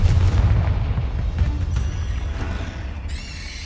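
A Confringo fire spell bursts in Hogwarts Legacy, giving a loud, deep booming blast with a rumbling low end that carries through the clip, followed by a brief bright magical shimmer near the end.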